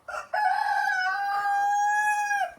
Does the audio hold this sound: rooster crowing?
yes